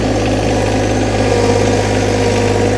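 A John Deere 1025r compact tractor engine drones steadily and loudly up close while it hauls very heavy logs. The low, constant rumble has a vibrating hum and no voices over it.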